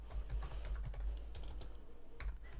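Rapid typing on a computer keyboard while entering an Excel function, a close, steady run of light clicky keystrokes with brief pauses and no talking.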